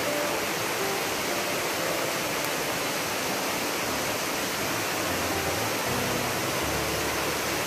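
Steady broadband rush of a waterfall heard from along a downhill forest trail, a constant even roar with no pauses and no voices.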